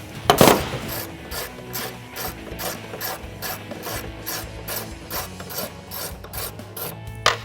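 A ratchet unbolts the front header bolt on a 2016-2021 Toyota Tacoma bed rail, giving quick, close, rhythmic clicks in a steady run with one louder opening burst and no voices.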